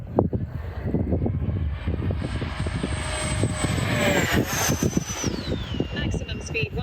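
E-flite Viper 70mm electric ducted-fan RC jet at full throttle, a sustained high-pitched whine that climbs then drops as it speeds past, fairly close and loud, with a voice talking over it throughout.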